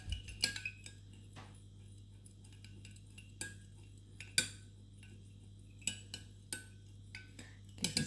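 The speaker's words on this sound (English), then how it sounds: "pour these wax dyed chips into it, give it a good stir, make sure they melt right in" Dyed wax chips stirred into a pot of melted wax, giving sparse light clinks and scrapes of a utensil against the container at irregular intervals over a steady low hum, with no talking.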